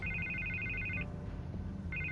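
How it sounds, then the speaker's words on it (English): A telephone rings in Batman: The Telltale Series, two bursts of rapid electronic trilling separated by a short pause, clear and fairly close with no talk over it. "I can't get the phone to stop ringing."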